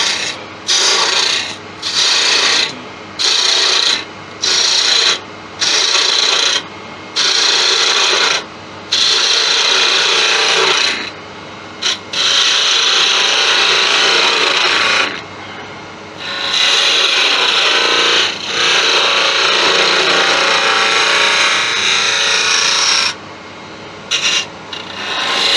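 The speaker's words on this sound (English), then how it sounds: "I need to be able to get in there to sand that" Sandpaper rasps against a wooden Christmas tree spinning on a wood lathe, loud and close, in repeated strokes broken by short pauses.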